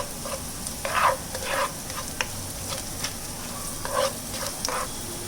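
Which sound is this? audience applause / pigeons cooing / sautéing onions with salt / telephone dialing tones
sautéing onions with salt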